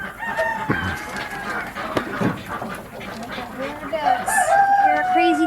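A farm rooster crows several times at mid distance, the calls rising and wavering over a busy yard with clucking fowl, other birds and some background voices.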